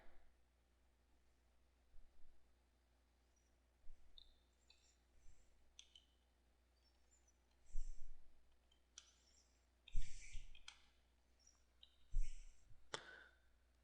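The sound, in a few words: computer mouse clicking while entering watermark text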